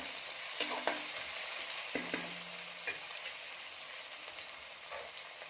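Tomatoes sizzle and fry with browned onion for Kolhapuri mutton, a steady hiss with a few scraping stirs scattered through.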